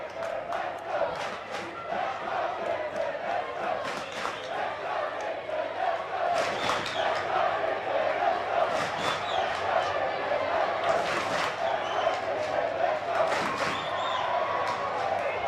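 Rugby league grand final crowd of Picton Magpies and Roosters fans cheering and shouting continuously in an open ground, a loud sustained roar with bursts of yelling and a commentator's voice over it.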